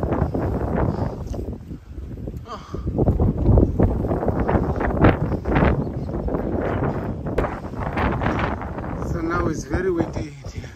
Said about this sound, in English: Hey, it's very windy here.